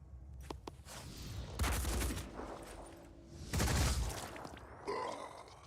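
Gunfire is traded in a tactical video game against alien enemies: a few separate bursts of shots ring out, loud and close, between quieter stretches.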